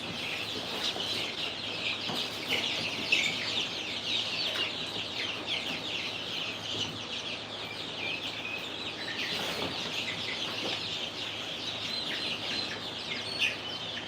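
Baby chicks in an indoor chicken room give a steady, continuous chorus of high peeping and cheeping, with occasional louder calls and faint rustling, no talking.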